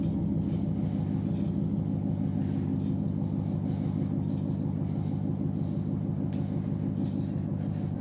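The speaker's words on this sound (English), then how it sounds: "I wonder if y'all can even hear me with the truck running." A truck engine idles nearby, giving off a steady, continuous low rumble with a faint mechanical ticking. It runs alone without any talk.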